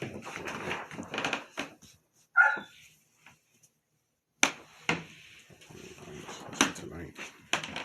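A dog lets out a sharp bark and a few short yips at close range, set between stretches of people chatting and laughing.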